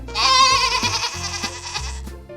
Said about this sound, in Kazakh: Дұрыс, лақ ешкінің төлі.